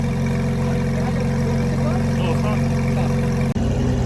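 A sports car with a performance exhaust idles in a private car collection, giving a steady, loud, low engine drone with a deep rumbling hum that runs throughout, dipping for a split second near the end.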